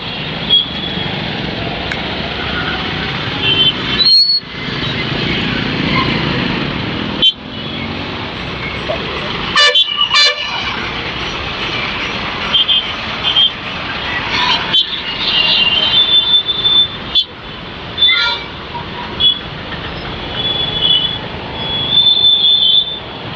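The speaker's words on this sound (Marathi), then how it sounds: "कसं ट्रॅफिक होते तुम्ही सगळ्यांनी बघा या व्हिडिओच्या मार्फत" Road traffic at a busy junction in Baramati MIDC with no speed breakers or signals: a steady, loud roar of vehicles with repeated pass-bys and brief sharp bursts over about twenty seconds, no talk.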